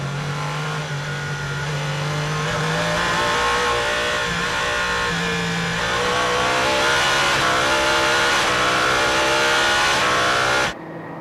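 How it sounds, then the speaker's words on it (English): Ferrari endurance race cars at the 6 Hours of Spa sportscar race roar past loudly and continuously, engines revving and shifting through gears, sound dominating throughout before cutting off abruptly near the end. "Here comes the Ferrari, Alessandro Pierguidi on the outside."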